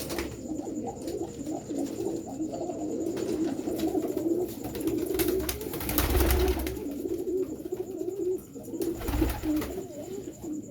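Pigeons coo with soft, low, repeated rolling calls that pulse steadily across the whole stretch at moderate distance.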